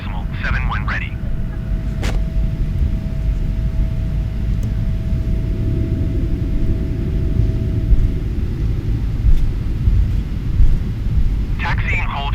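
A Boeing 777-300ER airliner taxiing at Minneapolis airport makes a steady, loud engine rumble and roar throughout, with radio voices talking over it.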